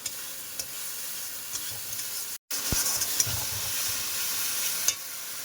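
Spice masala frying in a pan for a pangas fish curry with taro and potato, with bay leaves dropped in: a steady hiss and sizzle with scraping stirs, one brief cutout midway, no talking.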